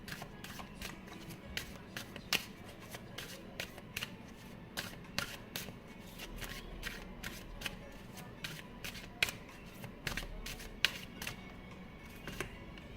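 Tarot cards being shuffled in a steady run of crisp, rapid riffles and flicks, close and fairly quiet, with no talking.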